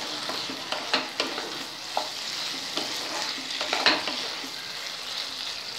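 Prawns and Malabar spinach stir-fry in a pan with a steady soft sizzle, punctuated by occasional scraping clicks of a spatula, moderately quiet and without speech.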